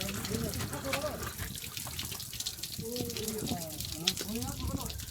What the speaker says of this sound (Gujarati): બહુ મીઠું પાણી છે, એક નંબર મીઠું ઉપરથી આવે